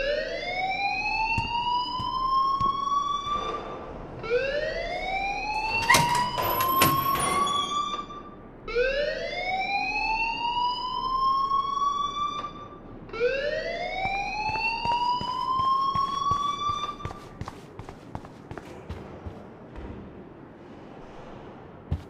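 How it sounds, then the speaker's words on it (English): Fire alarm in the video game Life is Strange, sounding as four loud rising electronic whoops, each climbing in pitch for a few seconds before breaking off, one after another with no speech. "please turn off that alarm since that's your job"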